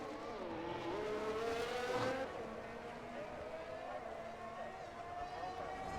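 A McLaren Formula 1 car in the F1 22 racing game running through the Monaco tunnel, its engine droning steadily with rising and falling pitch under continuous race commentary.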